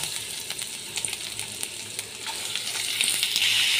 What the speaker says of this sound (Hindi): हमें 1-2 सेकंड के लिए इसे अच्छे से भुनना है, मतलब फ्राई करना है